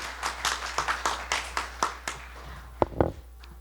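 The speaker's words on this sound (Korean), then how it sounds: "박수 한번 부탁드리겠습니다." Scattered audience hand claps at a public debate forum in Changwon, a sparse, loosely timed run of claps over a low steady hum that thins out and fades toward the end.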